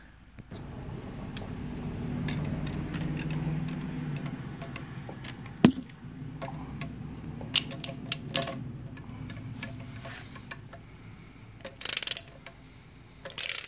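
A ratchet wrench with a six-sided socket works on tight engine nuts of a 2013-2015 Chevrolet Malibu LT 2.5L. Scattered metallic clicks ride over a low rumble, with one sharp snap midway and brief harsh bursts near the end.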